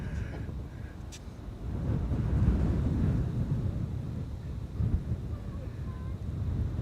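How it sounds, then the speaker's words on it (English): Wind gusts against the microphone at Amsterdam Schiphol airport, a low buffeting rumble that swells in the middle and stays steady and fairly loud throughout. "you're also buffering the wind a little bit"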